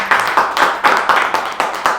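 Steady rhythmic hand claps, about eight of them in two seconds, sharp and fairly close, with no talk over them, at a Hindi poetry and literary recital staged by a state employees' literary society.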